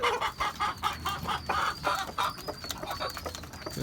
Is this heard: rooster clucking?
yes